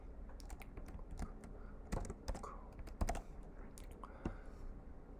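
Typing on a computer keyboard while entering item names into a teachable machine tool, with irregular soft key clicks and a few sharper taps in a quiet room.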